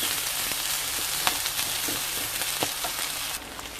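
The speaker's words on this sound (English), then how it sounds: "we're just going to keep stirring that and let that fry off in the centre just to get a little bit crispy" Korean fried rice sizzles loudly in a hot pan, a dense continuous hiss punctuated by scraping clicks of a utensil stirring and tossing the rice, close and without any voice.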